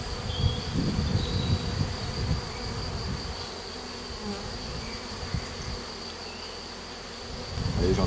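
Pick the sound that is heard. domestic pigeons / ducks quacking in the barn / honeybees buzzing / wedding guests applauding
honeybees buzzing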